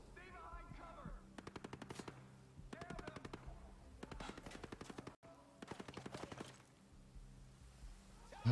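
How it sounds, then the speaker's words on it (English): Ghost Recon Breakpoint video game gunfire: bursts of rapid automatic shots in several clusters, moderately loud against a quiet background. "you're not safe from the guy shooting you in the face, apparently"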